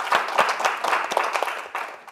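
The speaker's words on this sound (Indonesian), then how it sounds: "Boleh tepuk tangan." Audience clapping at a comedy roast show, a short burst of distinct, fairly close handclaps that trails off after about two seconds.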